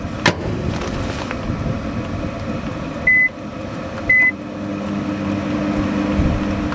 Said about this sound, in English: this microwave usually burns stuff because it's so tiny it doesn't turn right